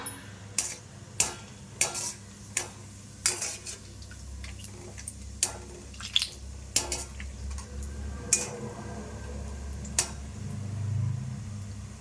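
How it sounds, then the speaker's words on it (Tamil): Cashews frying in a pan, heard as a series of sharp metallic taps and scrapes as a spoon stirs them, spaced irregularly over a low background hum, close and fairly quiet with no talking. "இப்போ ஃபைனலாக இன்னும் கொஞ்சம் டேஸ்ட் ரிச்சாக்க கொஞ்சமாக முந்திரியை வறுத்துக்கலாம்"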